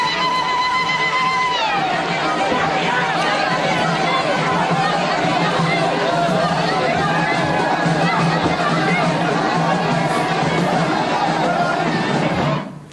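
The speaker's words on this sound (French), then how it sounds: "le JT montre en longueur la foule qui l'acclame tout au long du cortège" A crowd cheers the Tunisian president along a motorcade route in Bizerte on a national holiday, a steady, dense roar of voices and chanting with shrill ululation near the start, then the sound cuts off.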